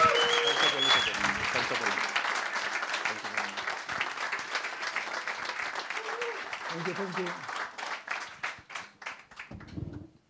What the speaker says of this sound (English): let's give a very, very warm welcome Bucharest CEO Clubs and Executive Club applause to Stefanos Xenakis.